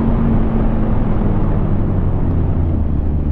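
A Kawasaki Ninja 1000cc motorcycle engine gives a loud, steady, low droning roar, up close and continuous with no pauses.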